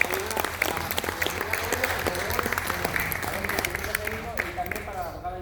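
A live audience at a Spanish-language talk breaks into steady, sustained applause, a dense wash of clapping with a voice carrying over it throughout.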